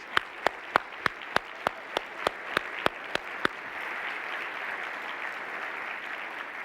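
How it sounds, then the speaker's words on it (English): An audience applauds at a University of Massachusetts Boston convocation. A dense, steady wash of clapping fills a large hall and goes on for several seconds. Sharp, evenly spaced clicks mark the first half. "let's give them a round of applause."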